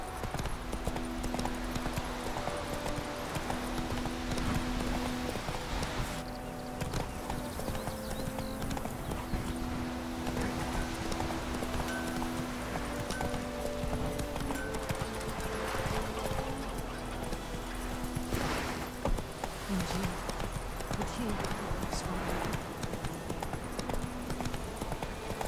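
Horse hooves clip-clop steadily in The Witcher 3: Blood and Wine, a continuous trotting rhythm up close over a bed of music, with a brief whinny-like burst near the end.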